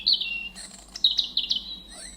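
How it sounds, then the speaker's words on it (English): Bright, high garden bird songs from a sound book: chirps and short trilling notes in quick bursts, fairly clear and close over a quiet low hum. "we've been listening and identifying the birds outside."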